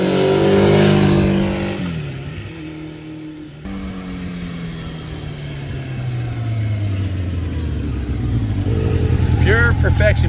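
A 1984 Honda Nighthawk S 700 motorcycle revs hard, its engine note climbing through gears to about 6,500 RPM, loud and close, with a shift dip and rising pitch sweeps before settling into a sustained drone.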